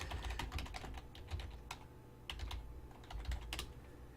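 Typing on a computer keyboard, quick irregular key clicks in bursts with brief pauses, close and fairly quiet, with no talking.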